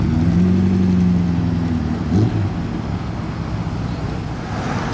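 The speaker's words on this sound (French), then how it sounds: "Départ de la TVR." A TVR sports car pulls away with its engine revving, a loud, steady rumble that dips briefly and carries on with wind buffeting the microphone throughout.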